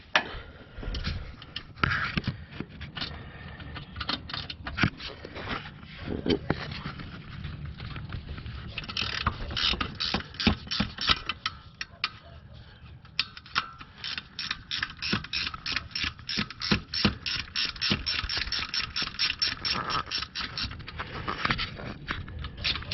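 Fast ratcheting clicks from a 15 mm ratchet wrench turning an alternator bolt on a 2013 fifth-generation Camaro, coming in dense bursts over about twenty seconds with short pauses, close and fairly loud.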